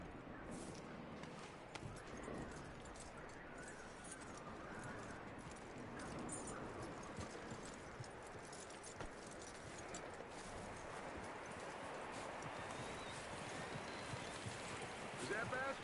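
Horse hooves clip-clopping in the video game Red Dead Redemption II, a faint steady trot of hoofbeats under a soft outdoor ambience, quiet and distant throughout.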